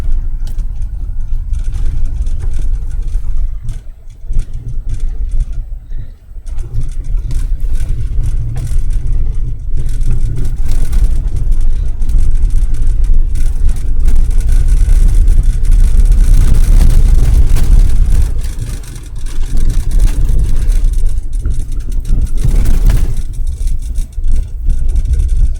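An all-wheel drive car drives on during a storm, its engine and road rumble loud and continuous from inside the cabin, a deep steady drone that dips briefly now and then with no talk over it.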